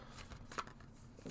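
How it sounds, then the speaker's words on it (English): Tarot cards are shuffled by hand in a quick soft riffle of paper flicks, faint and close, lasting about a second. "So, I'm shuffling here."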